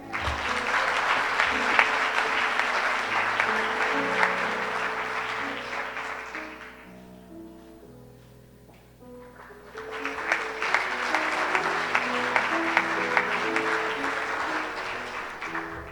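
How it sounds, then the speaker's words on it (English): Audience applause fills the hall at an inaugural medical school white coat ceremony at the John Shufeldt School of Medicine, a long dense burst that dips to a lull midway before swelling again, with faint steady tones beneath. "let's give a final round of applause for our inaugural class"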